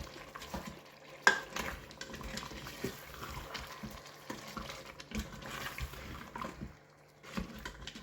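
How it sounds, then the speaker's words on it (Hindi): Spices for chicken nihari sautéed in a pot, a soft continuous sizzle with irregular spoon scrapes and stirring clatter, moderately close, no talking. "ये सारे मसाले ऐड करके तो मज़ीद इसकी 5-7 मिनट बुनाई करेंगे।"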